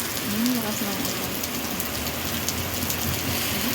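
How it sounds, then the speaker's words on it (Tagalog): Heavy rain pours steadily in Saudi Arabia, a dense, continuous hiss of drops on surfaces with a low mechanical rattle underneath, close and uniform throughout. "Lakas ng ulan."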